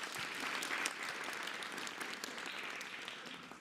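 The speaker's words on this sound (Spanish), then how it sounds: "un aplauso para las maestras y los maestros." An audience applauds the teachers at a presidential press conference in Mexico, a steady, dense wash of clapping that holds at an even level throughout without any voices over it.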